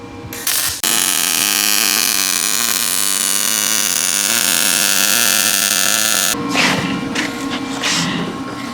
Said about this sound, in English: Let's get to welding.